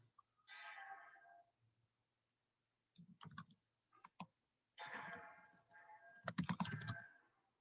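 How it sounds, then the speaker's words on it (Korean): Computer keyboard typing during a lab class, heard as quick clusters of light clicks in separate bursts with pauses between them, fairly quiet and with no speech. "한번 그냥 타이핑을 한번 해보세요."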